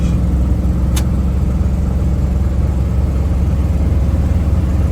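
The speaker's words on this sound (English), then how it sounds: "We're out driving our Dodge W200 Snofiter." Loud, steady engine drone and road rumble from a 1974 Dodge W200 Snofiter with a factory snowplow, cruising at highway speed, heard from inside the cab with no talk.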